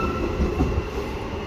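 A graffiti-covered, dirty commuter train rumbles through East Perth station, a loud, steady, broad roar with no voices.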